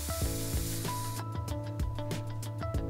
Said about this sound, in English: release the pressure out of the brewery